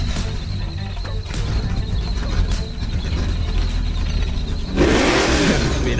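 A car engine hums and whirs in the Gas Station Simulator game, then the exhaust bursts into a louder rev near the end.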